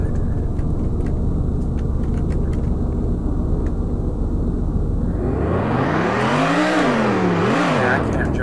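Car driving in the video game Roblox, a steady engine drone that swells into a loud rising and falling rev toward the end, with a person talking.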